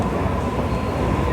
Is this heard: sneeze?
no